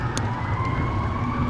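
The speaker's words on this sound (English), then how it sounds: "Hearing the police sirens" Police car sirens wail along a street in a mid-sized Midwestern city, a steady, fairly loud tone heard from a nearby bicycle amid road and wind noise.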